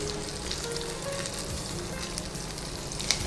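Curry leaves and garlic frying in a pan, giving a steady close hiss and crackle of hot oil with small pops, and no voices over it.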